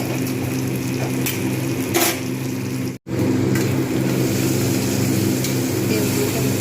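Bitter gourd fries in fish oil in a pan, giving a steady, continuous sizzle with a few light stirring clicks and one brief dropout.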